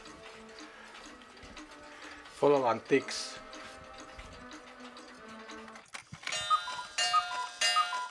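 Several clocks tick at once in an indoor space, overlapping rhythms under a person speaking briefly, with a few louder chimes and knocks.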